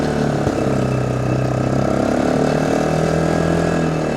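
A remote off-grid fishing lodge vehicle's engine drones steadily in second gear, a loud continuous rumble with a single knock near the start and no voices.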